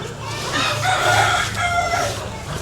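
Roosters crowing and chickens clucking in a steady, fairly close barnyard din, with no talk over them, the calls running continuously across the short stretch.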